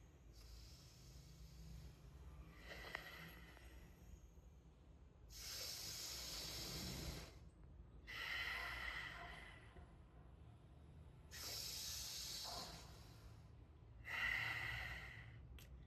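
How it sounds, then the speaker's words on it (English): Deep yogic Dirgha Pranayama breathing, close and quiet: slow rounds of long airy inhales and exhales, about five breaths spaced a couple of seconds apart in a still room. "just take a deep breath, Dirgha Pranayama, maybe 5 to 10 rounds like this"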